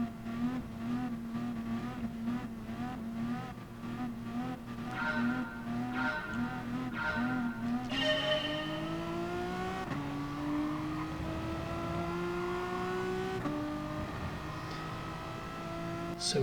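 Race cars in the GT Sport video game pulling away at the start of a race at Autopolis, steady loud engine drone with rising revs and gear shifts, a pack of cars accelerating together.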